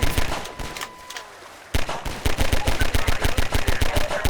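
Video game gunfire crackles in fast, evenly spaced automatic bursts, close and loud, with a brief lull before the rapid shots resume and continue in a steady rhythm.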